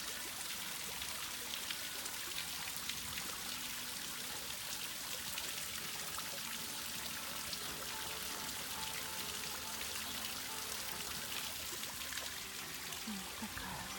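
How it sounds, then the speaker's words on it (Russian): A park square fountain gives a continuous, even splash and hiss of falling water throughout, steady and moderately distant, with no talking. "На фонтанной площади мы."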